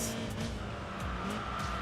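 An upgraded sport sedan engine revs with a throaty upgraded exhaust roar in Enthusia Professional Racing, steady and loud throughout, with brief tire squeals cutting through.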